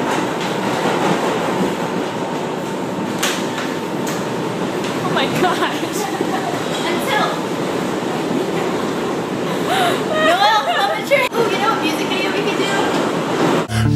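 A subway train runs along the rails with a loud continuous rumble and clatter, wheels briefly squealing near the end, while people talk over the noise.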